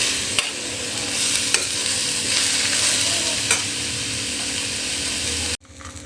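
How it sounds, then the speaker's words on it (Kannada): Garlic and onion sizzling steadily in a pan for tomato chutney, stirred now and then with a spoon that gives sharp scraping clicks, close by and with no talking. "ಈರುಳ್ಳಿ ಜೊತೆಗೇ ಹುರ್ಕೊಂಬಿಡೋಣ. ಈ ಥರ ಸ್ವಲ್ಪ ಕಂದು ಬಣ್ಣಕ್ಕೆ ಬರೋಂಗೆ ಉರಿಯೋಣ."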